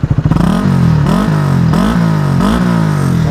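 Honda CBR 150R facelift fitted with a Tridente carbon three-sound exhaust, revved hard several times in close succession, each sharp rise and fall loud and near with no talk.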